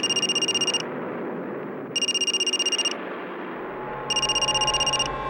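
A telephone rings three times with an unknown number calling, each burst a rapid electronic trill about a second long separated by short pauses, clear over quiet indoor room tone.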